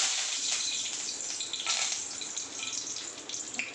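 Curry leaves hit hot oil in a pan for a Marathi capsicum and potato curry, giving a close, steady bright hiss and crackle that fades slightly toward the end.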